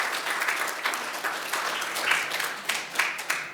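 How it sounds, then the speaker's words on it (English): An audience at a business society talk applauds a speaker being introduced, a brief burst of steady clapping at moderate volume with a few louder individual claps standing out. "Let's give him a nice round hand of applause."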